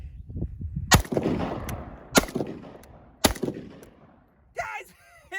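A PSAK-47 GF3 rifle with mud in its action fires three loud, sharp single shots about a second apart, each followed by a short echoing tail, and a brief voice sounds afterward.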